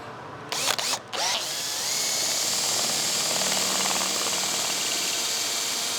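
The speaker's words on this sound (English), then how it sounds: "I'll just get my tools and I'll drill this out." A power drill bores out a set screw in a piston, starting with a few short whirring bursts and then settling into a steady, close, continuous high-pitched drilling whine.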